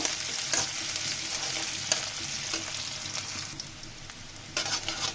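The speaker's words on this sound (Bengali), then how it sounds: "দিয়ে সুন্দর করে এটাকেও আমি ভেজে নিব" Chopped cauliflower stalks frying with whole cumin, onion, garlic and green chilli in a pan, giving a continuous close sizzle with intermittent stirring scrapes and taps, and no voices.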